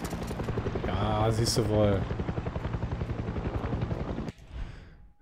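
Helicopter flying in the video game Far Cry 6, a steady rotor drone running under someone speaking German, with a louder swell partway through before it fades out.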